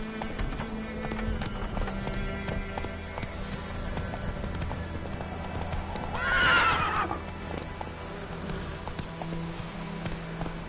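Roach, the horse in The Witcher 3: Wild Hunt, gallops with steady, close clip-clopping hoofbeats throughout over a low ambient hum, broken about two-thirds through by a loud, rising whinny.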